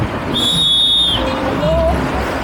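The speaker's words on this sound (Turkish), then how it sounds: "Çaldı düdüğü sabahtan beri polis sanıyorum." A whistle is blown twice on a city street, first a long shrill blast, then a shorter, lower toot, over background traffic noise.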